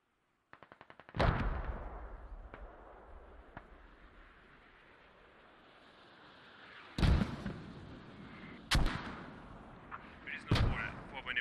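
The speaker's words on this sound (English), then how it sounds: "Shoot mortars straight to the ammo hill." Mortar rounds in the military game Squad, several heavy booming impacts spaced apart with long rumbling decays, following a quick rattling burst, in a quiet battlefield setting.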